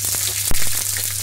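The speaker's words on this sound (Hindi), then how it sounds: "तो अब मैं डालूंगी इसमें प्याज" Sliced onion hits hot oil with a steady close sizzle and a single soft plop as it lands, frying for a brief moment.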